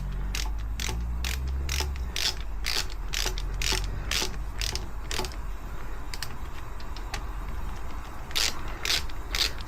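Ratchet clicking in quick repeated bursts while tightening the axle pinch bolts on a Yamaha WR125X motorcycle, close and fairly loud, with short pauses between strokes and no talking.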